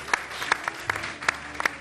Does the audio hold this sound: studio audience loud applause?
yes